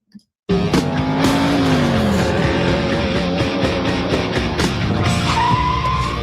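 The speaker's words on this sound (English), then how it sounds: "This is a supercharged Hemi Rumblebee SRT." Supercharged Hemi engine of a Ram Rumble Bee SRT truck roars loudly after a brief silence, a sustained high-revving drone with rising pitch sweeps and sharp bursts, close and dominant with no talk.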